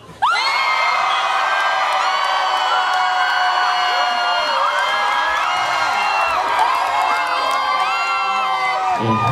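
A concert audience at an indie rock show cheers and screams loudly for several seconds, a dense wall of high whoops and yells that rises suddenly and holds steady.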